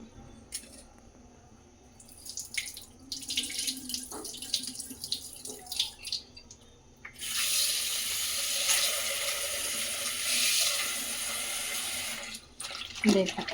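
Scattered clinks and splashes of banana flowers rinsed by hand, then a tap runs in a steady loud stream for several seconds before shutting off.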